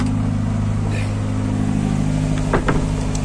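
A Spring Horizon 2 cruiser's engine runs on the Norfolk Broads with a steady, low droning hum, loud and close, with a brief rising whine near the end.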